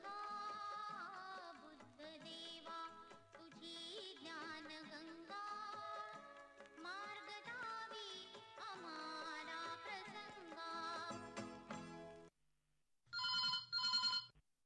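A telephone rings for a radio phone-in programme on Akashvani Akola, with a short burst of bright trilling rings near the end that follows a long stretch of melodic tones.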